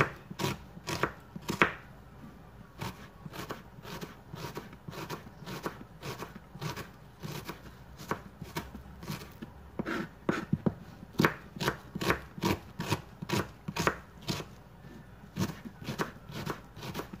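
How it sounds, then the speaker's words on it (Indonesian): A knife chopping shallots or onions on a board for shrimp patties, a long run of quick, crisp close taps in uneven bursts with brief pauses, fairly quiet and with no talking. "Potong dulu ini ya bawangnya."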